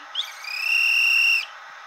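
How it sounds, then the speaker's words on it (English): A conductor's railway whistle from an HO scale model train scene gives one steady, shrill blast lasting about a second, loud and alone with no talk. "Then the conductor blew his whistle,"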